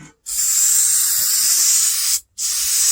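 Aerosol rattle can spraying paint onto the dash of a 1962 Mercury Comet, a close, steady hiss in two long bursts separated by a brief pause.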